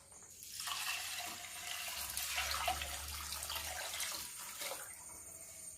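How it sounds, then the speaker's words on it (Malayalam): Water pours steadily into a pressure cooker holding soaked rice and fenugreek seeds for uluva kanji, a continuous splashing stream that rises in the middle and eases toward the end, with no one talking. "വെള്ളം ഒഴിക്കാം."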